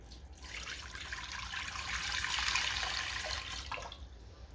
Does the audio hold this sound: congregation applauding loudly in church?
no